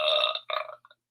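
A single short burp, faint and close, breaks into two quick pulses and trails off into silence.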